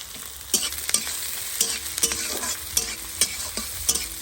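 Chopped onion, green chilli, ginger and garlic fry in hot oil in a pan, a bright continuous sizzle broken by regular sharp clinks and scrapes of a spatula stirring, with no voices.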